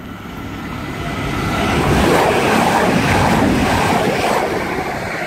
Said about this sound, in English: the cross-country trains come through fast, and I think there's another one